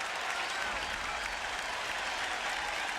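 A large crowd at Fenway Park stands during a 1998 Rangers–Red Sox matinee awaiting the final out, producing a continuous, faint roar of clapping and crowd noise throughout.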